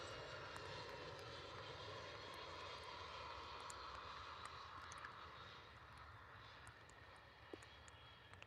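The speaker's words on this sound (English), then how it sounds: "That looks like the PC12's coming back down towards us." A PC-12 aircraft approaches to land at Liverpool Airport in strong wind and heavy rain, its engine a distant, steady drone under rushing wind noise.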